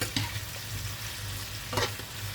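Food cooking in a pan with kebab spices, giving a steady low sizzle with a low hum beneath and two brief louder stirring scrapes, heard alone without talk.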